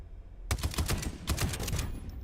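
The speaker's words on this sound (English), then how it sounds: "we got the assault rifle" An assault rifle fires in Space Engineers 2, two loud bursts of rapid automatic shots with a short pause between them, close and alone.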